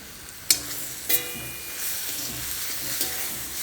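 Cashew nuts are dropped into tomato gravy in a hot pan, making a couple of sharp clinks and splats, then a steady sizzle with stirring scrapes, close up and with no talking.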